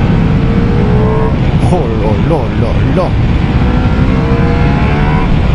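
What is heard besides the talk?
Ducati Multistrada V4S motorcycle engine revving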